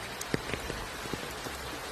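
Heavy rain pours down in a continuous hiss, with scattered louder drips and splashes landing close by and no voices.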